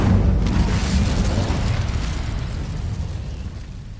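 An Incendio fire spell bursting in Hogwarts Legacy, a loud roaring whoosh-like blast that starts strong and slowly fades over several seconds, alone without talk.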